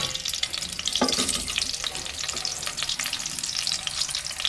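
One small onion tipped into hot oil for a hotel-style mushroom sambar, setting off a steady, close, dense sizzle with a sharper burst as it drops in, then continuous frying hiss and light stirring.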